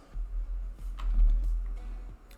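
Keys clatter on a computer keyboard in a quick, uneven run of close taps while text is typed into a Canva design, with no voices.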